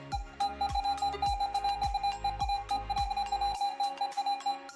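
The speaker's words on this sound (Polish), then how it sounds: "Zobaczcie sami, jak brzmi wykrywacz w tym trybie." Garrett AT Pro metal detector in Pro mode giving a steady run of repeating electronic beeps and tones, clear and close, with a pulsing low thump underneath that stops near the end, no talking.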